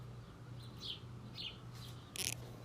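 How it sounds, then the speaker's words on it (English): Birds chirp outside a back door in short, bright bursts, a few separate calls and one louder trill over a steady low hum. The calls are moderately distant and fairly faint, and no voices are heard. "The birds are chirping up a storm."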